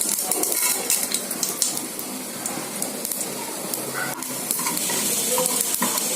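Urad dal sizzling in hot oil with mustard seeds while being stirred, a steady close crackle and hiss with occasional scraping of the spoon against the pan throughout.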